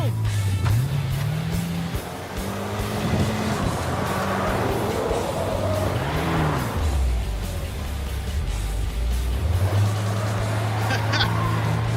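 A 1975 AMC Gremlin's engine revs hard while the car drifts, its loud drone rising and falling in pitch throughout with scrubby tire noise, close and continuous.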